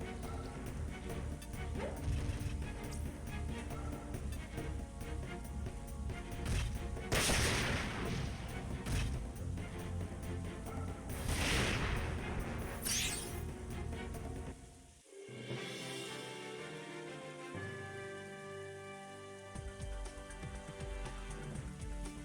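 Airstrike explosions in the video game Front Mission 4, during an assault on an enemy base in Venezuela: dense, continuous booming gunfire and blasts with a few louder bursts, then a sudden drop to quieter game sound near the end.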